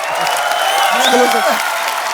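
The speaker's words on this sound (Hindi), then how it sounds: "जोरदार तालियां।" Studio audience applause on a Hindi TV comedy show forms a steady, fairly loud clapping wash, with a voice talking over it.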